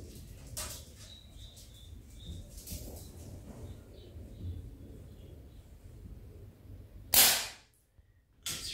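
Artemis CP1 air pistol fired with open sights in .177 calibre: a single sharp, loud shot near the end of a quiet stretch of faint room noise, with a couple of soft clicks earlier.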